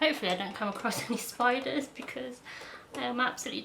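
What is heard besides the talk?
No distinct noise like a dog, phone or traffic.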